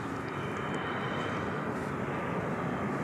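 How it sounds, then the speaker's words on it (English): An American Airlines Airbus A321 arrives at DFW Airport at night, its engines a steady, distant, even roar with no talk over it. "we have incoming from Lost Wages, this American Airlines Airbus A321"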